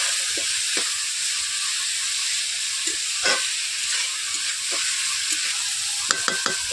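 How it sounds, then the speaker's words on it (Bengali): Vegetables with pui shak (Malabar spinach), potato and brinjal are stirred and fried in a wok. A steady hissing sizzle runs close throughout, broken by repeated scraping stirs and a few sharp clinks near the end. "সবজিগুলোকে আমি ভেজে নিচ্ছি, যাতে সবুজ ভাব না থাকে"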